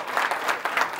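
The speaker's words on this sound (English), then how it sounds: "Please give them a big round of applause" Clapping from the audience at a school book launch program, a short burst of steady applause from many hands indoors with no talking.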